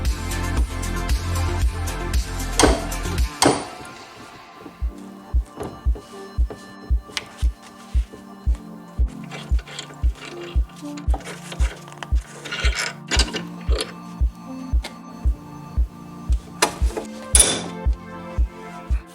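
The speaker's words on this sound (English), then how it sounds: "Next thing is to split this caliper by removing these 4 through bolts." Through bolts come out of a Wilwood brake caliper being split for a rebuild. A loud burst of tool noise opens, then a long run of evenly spaced sharp metallic clicks and clinks follows, close-up with no speech.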